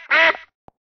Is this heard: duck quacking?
yes